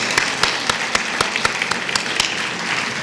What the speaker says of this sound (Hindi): एक जोरदार ताली उन सभी के लिए